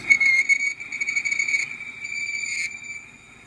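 A high-pitched metallic squeal as a CNC lathe tool cuts a steel wheel spacer and hits the bottom face, whining steadily for about three seconds before tapering off.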